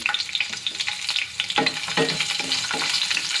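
Whole garam masala spices and green chillies frying in hot oil in a kadai, a crackling sizzle broken by sharp pops and spluttering bursts, close and loud, with stirring sounds mixed in.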